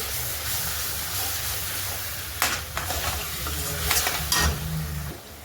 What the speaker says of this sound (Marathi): छान असं त्याला तेल सुटेपर्यंत वाटणाला मस्तपैकी छान असं वाटण आपण आधी परतून घेऊ